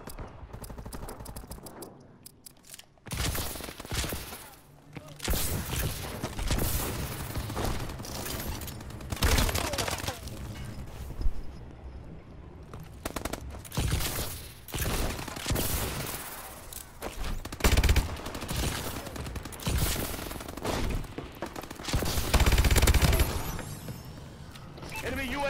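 Rapid bursts of Rigger gunfire in Advanced Warfare, dense fusillades with mechanical clatter filling most of the stretch, loud and close, mixed with intermittent talking.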